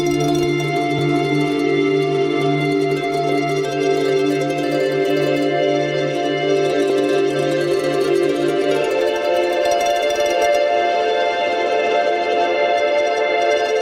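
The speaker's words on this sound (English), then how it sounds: "just this pad in the background just kind of to add some ambience" An ambient synth pad with reverse textures and scattered effect fragments hums in sustained layered tones, a low drone dropping out partway while the airy upper layers continue.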